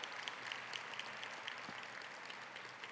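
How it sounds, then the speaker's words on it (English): Conference audience applauding a speaker at a plenary session, a fairly faint, steady patter of many hands clapping with scattered individual claps standing out. "Let's give her another round of applause."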